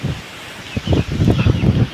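Strong wind gusting outdoors in a rain-flooded rural field, buffeting the microphone in loud, uneven rumbling bursts that build toward the end, with no speech.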